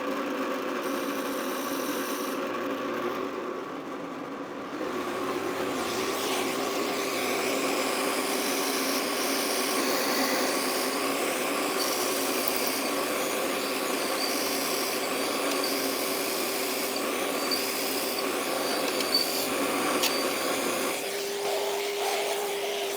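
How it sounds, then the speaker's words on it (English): A power drill with a 3/8 drill bit bores out a wooden gear shift pen blank, a steady loud whirring drone that holds for nearly the whole stretch, shifting pitch near the end as the bit breaks through. "I've got a 3/8 drill bit chucked up in the drill"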